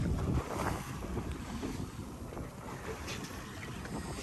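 Fishing boat underway at sea off Aracaju, Brazil: an engine rumble with hull slapping through waves and strong wind buffeting the microphone, steady throughout.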